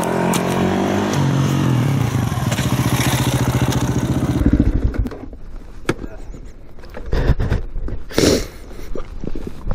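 A 2018 KTM supermoto motorcycle runs loudly with a steady engine drone, then a sudden clatter as it topples and the engine cuts out, followed by scattered knocks and scrapes nearby.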